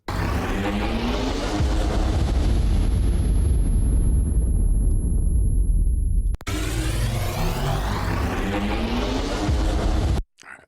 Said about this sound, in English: So we can hear our explosion.